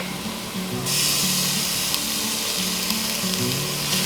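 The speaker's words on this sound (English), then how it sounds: "we're going to add ½ teaspoon of crushed red pepper, a tablespoon of minced fresh ginger, and 5 cloves of minced garlic" Onions, minced fresh ginger, garlic and crushed red pepper sizzling loudly in a pan, the hiss swelling sharply just after a second as the ingredients go in, then holding as a steady close crackle with faint ticks.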